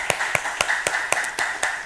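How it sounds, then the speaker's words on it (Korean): A church congregation claps during a Sunday worship service, a thin, moderately paced run of about eight sharp claps with some reverberation. "우리 박수로 감사의 표시하겠습니다."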